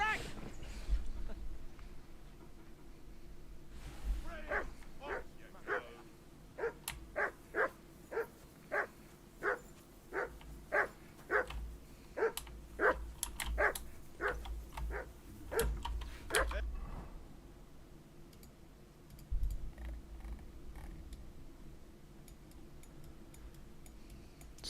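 Dog barking in the medieval game Kingdom Come: Deliverance 2, a steady run of sharp, evenly spaced barks, fairly close and loud, over a low ambient game backdrop.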